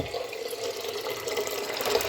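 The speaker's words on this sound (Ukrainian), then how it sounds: "треба ще пару кастрюль набрати свіженької води з крана" Fresh water runs steadily from a kitchen tap into a cooking pot, a continuous close splashing rush with no talking.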